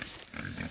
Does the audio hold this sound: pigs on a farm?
yes